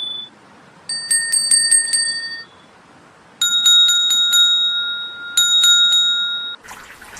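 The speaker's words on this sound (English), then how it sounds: "ringing of bells" A bicycle bell rings in quick bursts of repeated metallic dings, bright and close, with short quiet gaps between rounds.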